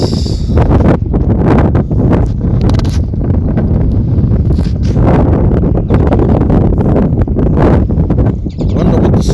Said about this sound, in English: It is windy, yes.